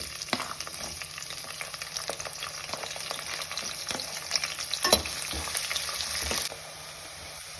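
Onion and two bay leaves frying in ghee and oil for bread pulao, a steady close sizzle broken by repeated utensil scrapes and stirring knocks, with a louder clatter near the end before the frying softens.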